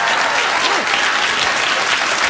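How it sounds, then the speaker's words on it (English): Dense, loud applause from a late-night talk show studio audience, steady and continuous throughout with no pause. "What are you clapping for?"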